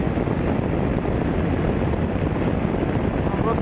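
A BMW G 650 GS motorcycle cruises at 120 km/h, heard as a dense, steady roar of wind rush and engine noise that stays constant throughout, with no clear speech.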